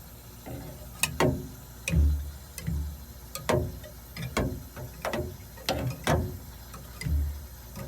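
A Frigidaire freezer fan turning on its own after being spun by hand, producing a series of irregular mechanical ticks and clicks with low thumps, close and fairly quiet, with no talking.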